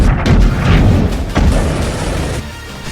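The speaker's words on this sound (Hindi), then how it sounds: "वोस्तोक ग्रुप के ग्रैंड MLRS टीम ने गुलियापोल के कई इलाकों में विध्वंसक प्रहार किया" Grad multiple rocket launcher strikes during Russian shelling in eastern Ukraine's Donetsk region, a loud rumbling roar of blasts with a sharper boom about halfway through, dense and close, fading toward the end.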